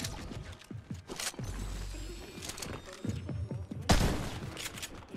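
Gunfire from the Fortnite video game crackles in scattered bursts of sharp shots with a heavier boom near the end, mixed with other in-game clatter at moderate loudness.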